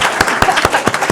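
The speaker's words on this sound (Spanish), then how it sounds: "Así que un aplauso, por favor." A small audience at a book presentation claps briefly, a handful of distinct, fairly sparse hand claps close to the microphone in an uneven rhythm lasting about a second.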